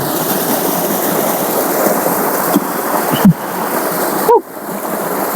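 Flood water pours over the rocky Ramudu Gundalu waterfall pools, a loud, constant rushing roar with a few sharp knocks and clicks close by.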